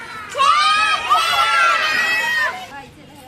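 A group of children shout the chherchhera festival call together in a loud, sustained, close chorus of high voices that fades out after about two seconds.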